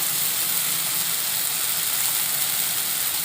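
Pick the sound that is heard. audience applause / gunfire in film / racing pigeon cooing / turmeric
turmeric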